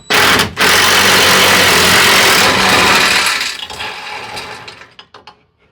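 An impact wrench rattles hard against bolts on a through-frame slide rack arm of an NXG slide, a loud, continuous mechanical buzz lasting about three seconds before trailing off into clanks and silence.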